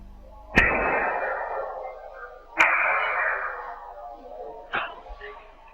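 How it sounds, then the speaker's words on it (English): Three sharp, loud gunshots captured on a digital recorder ring out a couple of seconds apart, each followed by a long reverberant decay, the last one fainter. "Was this the sound of the gunshots that killed Deputy Bell"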